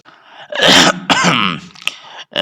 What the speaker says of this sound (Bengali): গলা পরিষ্কার করে নিয়ে